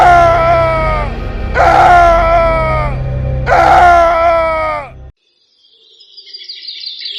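A man screams his last scream, three long anguished cries in a row, loud and close, each trailing off before a sudden cut to near silence with faint high chirping.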